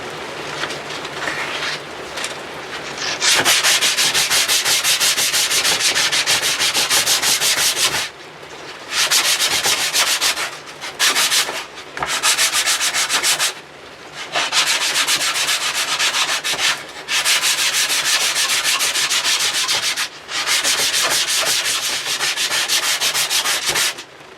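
Sandpaper of 120 grit rubs back and forth over a wooden guitar neck being carved, loud close strokes in long continuous runs broken by brief pauses, with no talking.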